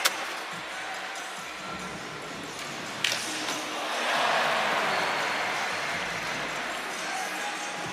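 Crowd noise rises around a skateboarder, Tommy Fynn, during the men's final at SLS 2024 Sydney: a steady broad roar with a brief sharp impact near three seconds, swelling slightly midway and staying loud throughout without clear speech.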